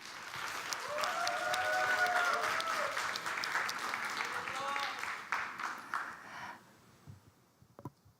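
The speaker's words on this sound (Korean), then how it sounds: "여러분 큰 박수로 맞아주시기 바랍니다" An audience applauds to welcome a speaker at a volunteer-themed Ignite talk event, a dense wash of clapping that holds for several seconds and then thins out and fades near the end.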